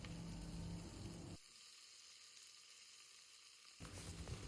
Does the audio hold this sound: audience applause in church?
no